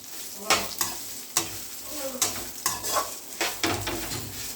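Bitter gourd pieces fry in oil in a pan, giving a steady soft sizzle. A spoon stirs them with repeated scraping clinks against the pan, close and fairly quiet.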